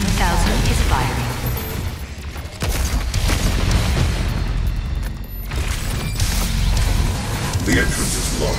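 The BFG 10,000 firing in a video game, deep booming blasts and crashing rumbles layered over a dense game soundscape of music and effects, loud and continuous, with a synthetic voice speaking over it.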